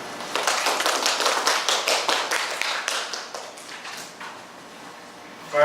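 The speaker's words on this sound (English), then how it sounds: "Please give applause." Applause from a conference audience, a dense burst of many hands clapping that holds steady for several seconds and then fades out toward the end.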